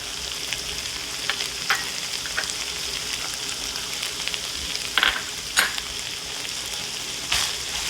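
Tuna pasta ingredients with pre-cooked tinned tuna sizzle steadily in a pan, with a few sharper scrapes and clinks of stirring standing out over the continuous frying hiss.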